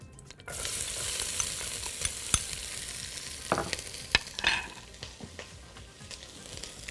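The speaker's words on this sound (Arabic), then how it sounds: "هنزل السمنة اللي عندي أول حاجة. وهنزل عليها بالبصل." Onions sizzle and fry in ghee in a pan, a steady hiss with occasional crackles and pops, close and moderately loud, with no voices.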